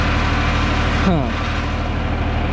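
Engine of a 1958 Lull cherry picker idling steadily with a low rumble, its pitch sagging briefly as it drops down, while a person talks over it.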